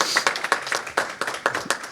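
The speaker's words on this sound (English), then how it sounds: "Go ahead and clap" An audience at a village council meeting in El Portal claps for three awards, giving close, sharp, steady hand claps in a short quick burst.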